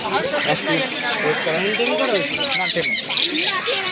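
Lovebirds, including lutinos, and budgerigars squawk and chirp in short bursts at a crowded bird market in Naihati, near Kolkata. People talk steadily over the birds.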